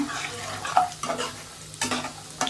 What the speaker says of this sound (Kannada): ಸ್ವಲ್ಪ ಕಡಲೆ ಬೀಜ ಇಷ್ಟನ್ನು ಹಾಕ್ಕೊಂಡು ಚೆನ್ನಾಗಿ ಫ್ರೈ ಮಾಡ್ಕೊಳ್ಳೋಣ.